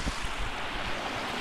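Rushing water from a mountain torrent or stream, a steady broadband wash with a rumbling low end, close and continuous throughout with no voices.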